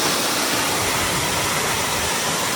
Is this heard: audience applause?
no